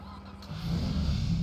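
A Volkswagen Jetta TSI engine starts up in a video game, a short crank that settles into a steady, low idle rumble, close and moderately loud.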